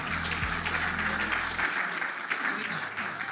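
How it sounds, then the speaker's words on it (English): Audience applause at a Bondi chamber of commerce event, a full steady clapping of many hands that swells briefly and holds, with a low hum underneath. "Round of applause to everyone."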